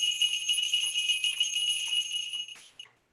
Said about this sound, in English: he heard the distinctive sound of a pair of falcon bells